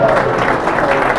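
A dense, loud wash of audience clapping fills the hall at a wellness talk, continuous and unbroken over its short span.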